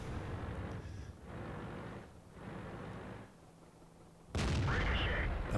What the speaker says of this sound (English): Oh, artillery hit me.